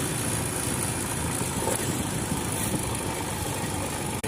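A motorbike engine runs steadily nearby on a village road, its rough rumble mixed with road and wind noise throughout.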